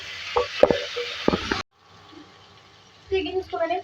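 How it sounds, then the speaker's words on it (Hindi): Chicken sizzles in a frying pan with ginger garlic paste in the first half, then quieter frying and stirring noises follow, with a voice heard intermittently over the cooking. "अदरक लहसुन का पेस्ट जाएगा इसमें 2 खाने के चमचे। चिकन को फ्राई करेंगे।"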